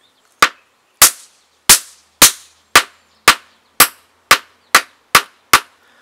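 Small charges of tetrazene explosive struck with a hammer on a rock, giving eleven sharp, loud cracks at roughly half-second intervals, each with a short decaying ring, no voices.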